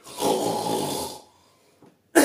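A person imitating snoring, one loud rasping snore lasting about a second, followed by near silence and the start of another burst at the end.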